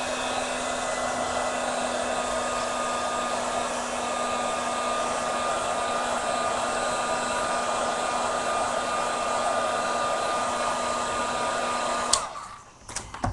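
A hair dryer blows continuously up close to dry a mixed media craft tag. The hum and airflow stay steady for about twelve seconds and then stop abruptly.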